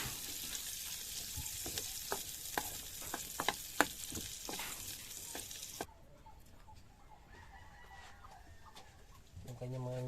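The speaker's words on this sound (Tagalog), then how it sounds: "gisa ko yung takway" Taro runners (takway) sautéing in a pan give a steady sizzling hiss with scattered pops and crackles, and chickens cluck faintly nearby. The frying stops partway through, and quieter background sounds follow.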